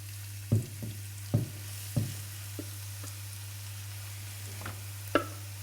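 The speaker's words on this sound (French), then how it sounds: "on va verser les carottes dans cette huile chaude" Carrots frying in hot oil in a pan give a faint, even sizzle, broken by a few light clinks and taps over a steady low hum.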